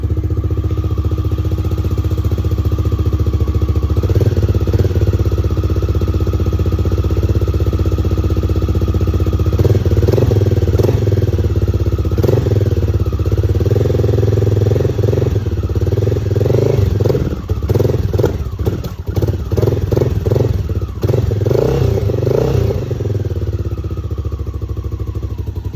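A Honda XR650L motorcycle engine on choke warms up after storage, running steadily and close, with a loping, uneven idle, and irregular clattering pulses and rev blips growing toward the end.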